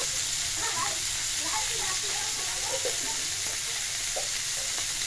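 Nigella seeds (black cumin) go into hot oil and set off a steady, close sizzle and crackle that runs throughout at an even level, with a few light stirring clicks.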